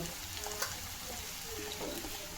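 Peas going into spiced, boiled potatoes frying in a pan, a soft steady sizzle with a few light stirring scrapes and clinks, fairly quiet and close.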